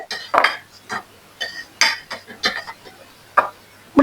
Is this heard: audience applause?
no